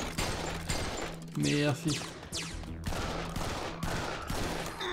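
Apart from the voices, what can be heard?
pistol gunfire in the video game Serious Sam's Bogus Detour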